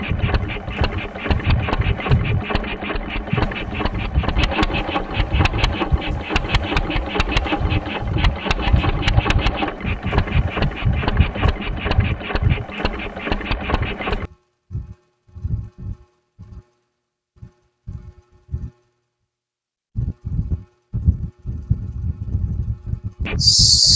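Mini twin-cylinder four-stroke engine running loud and close with rapid, rattling firing for about fourteen seconds, then cutting out, followed by sparse bumps and short sputters in near silence.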